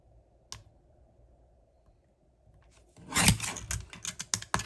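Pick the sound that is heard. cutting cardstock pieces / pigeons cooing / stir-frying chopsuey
cutting cardstock pieces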